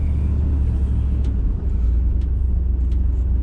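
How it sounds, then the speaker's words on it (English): Steady low engine rumble from an old plow truck while driving, loud and continuous with no talking, heard from inside the cab on the way to haul a load of rock chips. "Just in the old plow truck"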